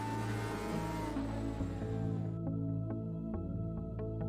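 Race car engine droning steadily through a lap of Bathurst in a racing game, a continuous harmonic hum with gear shifts and faint ticking, fairly quiet and without talk.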